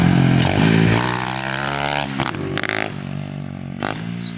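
An SSR 125 pit bike with a carburetor fault that breaks up when the choke is off rides past, its engine revving loudly then stuttering and dropping away, with rough bursts and clatter, no talking.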